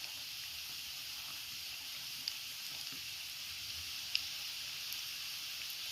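Small dough breads fry in hot oil over high heat, giving a steady, even sizzle with occasional faint pops and no voices.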